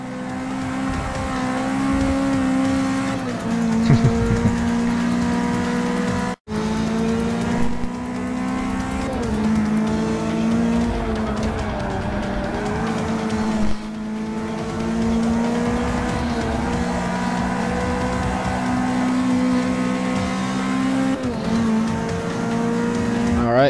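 Race cars including a Mazda RX-7 FD accelerating hard through a track chicane, loud engine revs climbing and dropping with gear shifts and a hint of tire squeal, heard up close from inside a car.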